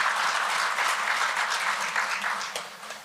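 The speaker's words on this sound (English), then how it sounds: "Let's give him another round of applause." Audience applause at a university medical centre commissioning ceremony in Zimbabwe, a dense sustained clapping from a large crowd that gradually thins out toward the end.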